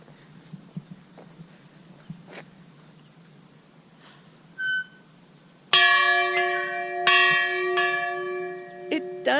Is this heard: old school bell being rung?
yes